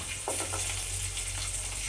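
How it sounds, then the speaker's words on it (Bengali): Garlic frying in a kadai on a gas stove, a steady close hiss and sizzle with a few brief stirring scrapes near the start, no voices. "রসুনটা আমি এই কড়াইতেই ভেজে নিচ্ছি"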